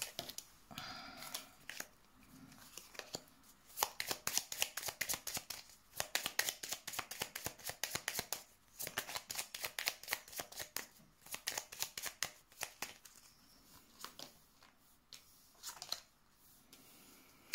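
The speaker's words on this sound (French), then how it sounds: "Alors, on va mettre d'autres cartes dessus pour voir." Tarot cards being shuffled and laid out one on top of another during a reading, giving a dense run of crisp papery flicks and slaps that is steady through the middle and thins out toward the end, close and with no talk.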